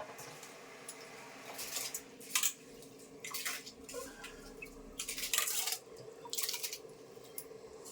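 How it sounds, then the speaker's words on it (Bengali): Uncooked rice tipped into a pot of hot water on the stove: a few short, close, splashy rattling bursts and light clinks of the pot, fairly quiet, with no talk. "জলটা গরম হয়ে গেছে, আমি এখন চাল ছাড়বো"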